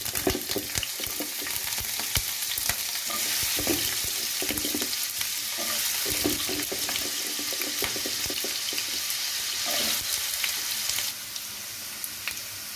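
Diced potatoes fry in hot mustard oil in a wok, a steady broadband sizzle with scattered crackles and a few stirring scrapes, close and continuous with no talk.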